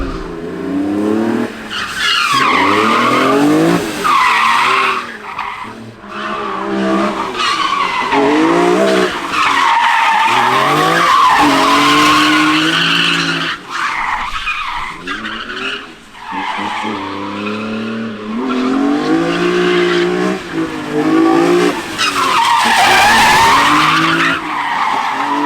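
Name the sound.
rental drift car drifting with tire skids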